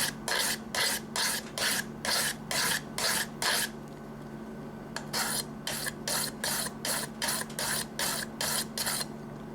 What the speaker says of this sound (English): This is a really cool sharpening stone, and these diamonds are fast.